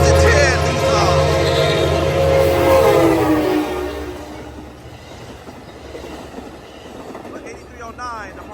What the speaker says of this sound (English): That's an F59 PHI leading this one off. And she's flying too.